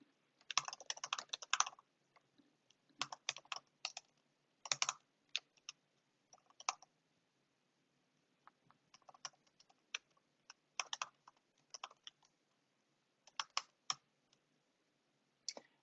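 Typing on a computer keyboard while setting up an account on a typing website, with bursts of quick, close key clicks separated by short pauses, no talking.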